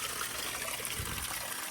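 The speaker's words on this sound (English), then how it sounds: "at least I got the sound of water in there" Water trickles steadily from a garden water feature in a Cascadia-style Japanese garden, a continuous close splashing wash with no pauses.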